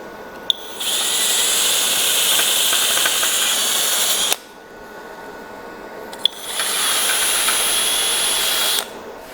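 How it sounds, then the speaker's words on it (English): Wire wheel grinding and cleaning steel for heavy-duty trailer ramps, a loud hissing, whirring abrasion in two long bursts separated by a brief quieter pause. "I'll get that cleaned up with a wire wheel"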